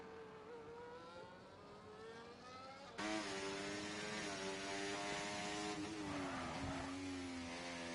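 A Mercedes rally car in a racing video game revs hard and steadily, its engine note climbing then jumping sharply louder partway through, with rising and falling pitch as it shifts and brakes, loud and close throughout.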